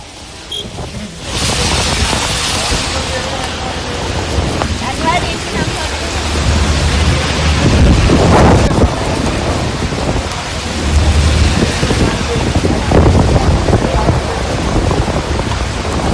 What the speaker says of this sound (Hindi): तेज हवाओं के साथ बारिश शुरू हुई है